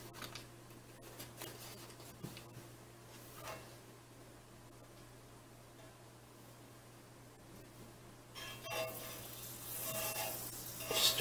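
Eggs frying in plenty of butter in a cast iron pan give a faint, steady sizzle with light scraping, swelling into a louder hiss near the end.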